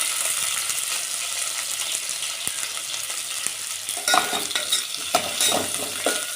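Onions and amaranth leaves frying in oil with mustard seeds, cumin and green chillies, a bright continuous sizzle broken by clattering stirring scrapes in the latter half, close and fairly loud, with no talking.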